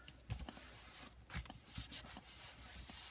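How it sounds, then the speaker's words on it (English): Paper for an origami pouch, glued with glitter or liquid glue, is burnished flat by hand: short, soft rubbing strokes in a few quiet bursts, close up and faint. "And burnish that on."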